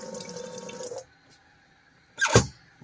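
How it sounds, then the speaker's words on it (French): A 12-volt folding faucet in a Volkswagen T5 camper van runs in a steady stream for about a second, then falls quiet before a short, sharp splash of water near the end. "Nous avons fait le choix également d'un robinet en 12 volts"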